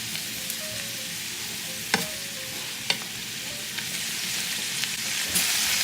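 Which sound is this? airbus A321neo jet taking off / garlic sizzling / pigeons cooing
garlic sizzling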